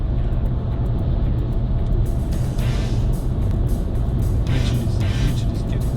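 A 2020 VW Polo accelerates toward 100 km/h, a steady, loud engine and road drone filling the cabin with no clear change in pitch, with no voices.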